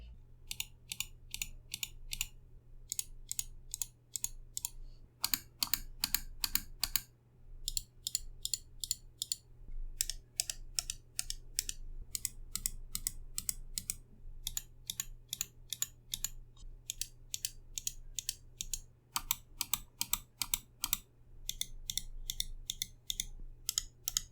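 Bursts of rapid, crisp clicks from a Logitech G Pro X Superlight wireless mouse repeat in quick runs with brief pauses between, close and distinct over a low steady hum.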